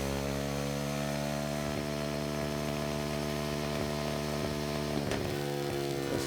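A Zongshen 190 motorcycle engine runs in fifth gear on a dyno, its loud, steady drone settling toward 4000 rpm, dense and continuous from close range with brief flutters in the exhaust note.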